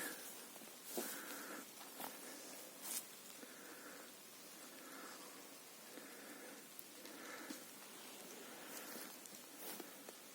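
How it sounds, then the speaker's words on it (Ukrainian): Soft, steady patter of light rain in a forest clearing, faint and continuous, with a few small drops and quiet tones in the background. "Дощик накрапує,"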